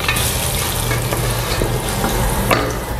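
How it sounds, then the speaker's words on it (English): Onions fry loudly in a pan while being stirred to keep them from burning, a dense close sizzle broken by several spatula scrapes. "Keep stirring the onions so it doesn't burn."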